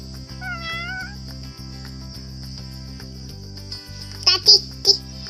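Cartoon-style kitten meows, a short rising trio of mews, sound over a steady bouncy children's counting song beat with a high sustained tone; a voice is heard singing along.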